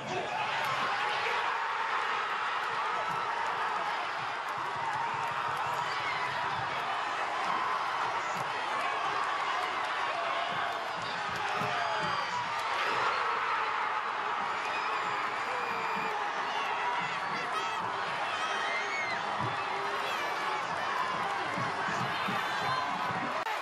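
A large outdoor crowd at Iceland's victory party on Arnarhóll in Reykjavík after beating England at Euro 2016 makes a steady, lively din of chatter, shouts and scattered cheering, with voices talking throughout.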